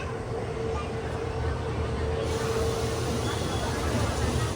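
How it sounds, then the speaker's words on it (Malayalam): Train pulling into Badami railway station in Karnataka, a steady loud rumble of rolling wheels and carriages filling the whole stretch with a constant low roar, no talk over it. "ട്രെയിൻ ഇതാ ബദാമി റെയിൽവേ സ്റ്റേഷനിലേക്ക് എത്തിയിരിക്കുകയാണ്."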